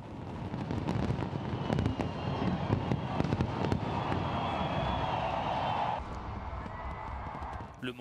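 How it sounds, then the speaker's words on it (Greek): A fireworks display over Sydney for New Year 2016 crackles with many rapid pops and bangs. Under the bursts runs a steady roar of crowd and ambience, and the firing thins out near the end. "Επί 15 λεπτά μοναδικά πυροτεχνήματα φωτίζουν τον Αυστραλιανό ουρανό"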